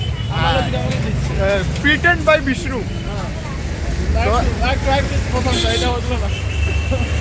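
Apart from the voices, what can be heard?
street traffic noise outside Howrah Rail Museum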